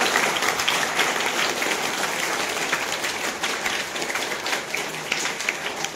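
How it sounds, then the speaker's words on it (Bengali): An audience at a school farewell gathering for a teacher retiring after 30 years gives a sustained round of dense clapping, applauding a family, steady and fairly loud from start to finish. "এই পরিবারের জন্য একটা জোরে হাততালি সবার জন্য।"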